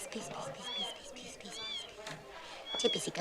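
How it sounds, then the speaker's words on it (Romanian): Cat in a cafe scene of a 1980 Romanian romantic film, giving a couple of short, thin meows amid soft clinking and room murmur, with people talking nearby. "Ce pisică palidă, săraca."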